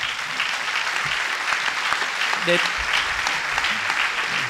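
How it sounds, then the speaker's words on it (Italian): Applause from an audience at an Italian talk on revolution, a steady wash of clapping that fills the whole stretch, with a few voices and murmurs mixed in underneath. "applauso per Gustavo."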